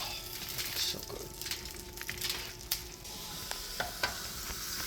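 Butter sizzles steadily in a pan as Cajun fish fries, a dense crackling hiss with occasional sharper pops and stirring scrapes, close and fairly loud throughout.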